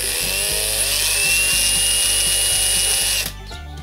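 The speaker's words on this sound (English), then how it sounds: "I'm actually going to take the lid off and try and drill through the top" A power drill whirring at high speed with a rhythmic grinding as it bores through a plastic lid, loud and close, then winding down at the end.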